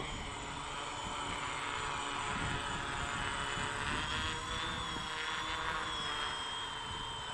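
A DJI Naza-lite drone hovers in GPS mode with a steady, high-pitched propeller whine and a faint buzzing drone that holds fairly even throughout, with no talking.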